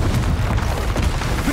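A Confringo fire-blast spell going off in the Hogwarts Legacy video game, a loud sustained booming rumble with repeated bursts throughout, no pauses.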